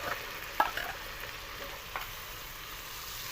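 Vegetables and chicken cubes sautéing in a pan for Chicken Manchurian, a soft steady sizzle with a couple of brief stirring clinks near the start and midway, moderately close, no voices.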